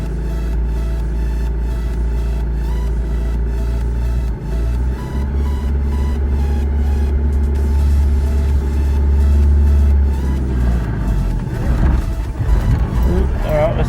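A Holden Barina with a manual gearbox hums along on a test drive as a steady low engine drone, then the revs rise toward the end with a brief louder push.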